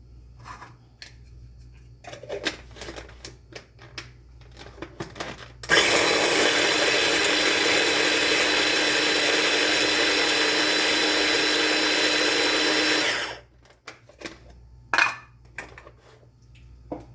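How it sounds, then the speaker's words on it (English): A small kitchen grinder pulverizes cooked shrimp in one loud, continuous whirring burst of about seven seconds. Quiet clicks and handling noises come just before and after it. "I have my little trusty grinder here, and I'm just going to grind the shrimp"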